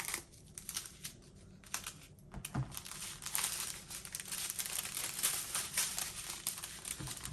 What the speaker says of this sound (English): We'll just go ahead and cut them all apart like this.